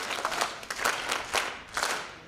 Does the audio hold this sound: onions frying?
no